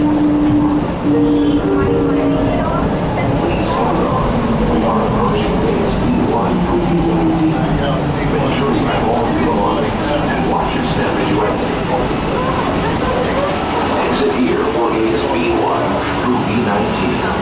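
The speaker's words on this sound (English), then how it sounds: "The train is going pretty quickly." An airport train at DFW Airport rumbles and rattles steadily along at speed, a constant loud mechanical roar with clacking and occasional squeals throughout.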